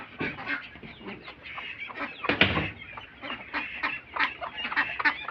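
Several chickens cluck and squawk close by in a farmyard, with a large duck among them, in a busy, uneven chorus of short calls without speech.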